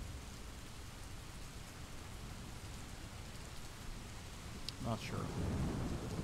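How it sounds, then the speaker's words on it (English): Heavy recorded rain from rainymood.com hisses steadily, then swells with a rumble of thunder near the end; a man briefly mutters over it. "this rain on rainymood.com is really picking up"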